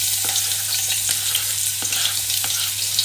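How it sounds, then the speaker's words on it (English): Onions sizzle steadily in a hot frying pan, a close, continuous crackling hiss with occasional stirring scrapes. "I'm just going to be adding to a heated frying pan some onions"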